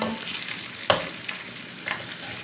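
Mackerel frying golden in hot oil, a close steady crackling sizzle with a sharp clink of a utensil partway through and no talk.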